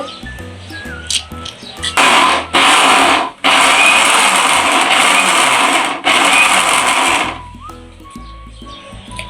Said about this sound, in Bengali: আমি শিলপাটায় বাটবো না, আমি আজকে ব্লেন্ডারে ব্লেন্ড করব।